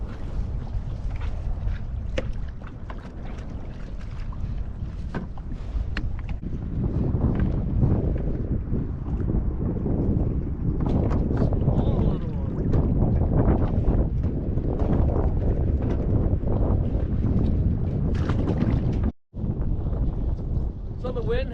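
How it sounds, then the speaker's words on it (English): Strong wind buffets the microphone during a sea kayaking trip near a jetty, a loud continuous roar with gusting rumble, a person speaking through part of it and a brief dropout near the end. "So the wind has really picking up and it's blowing."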